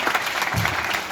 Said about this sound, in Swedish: En jättestor applåd för Sebastian Eriksson.